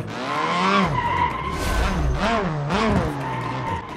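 In BeamNG Drive, a car drifts with loud, sustained tire screeching while its engine revs rise and fall in wavering sweeps, close and continuous with no voices.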